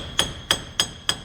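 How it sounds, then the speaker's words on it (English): A hammer taps a corroded wheel bearing on a 2016 Dodge Grand Caravan front hub, four sharp metallic knocks spaced evenly about a third of a second apart, close and alone. "Now a little tap with the hammer."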